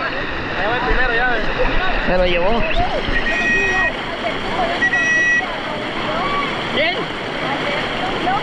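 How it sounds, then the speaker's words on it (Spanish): A river swollen wider and larger than usual rushes with a broad, steady wash of water and wind noise, while people shout and talk over it throughout. "está raro el río, está más grande va, más ancho veo"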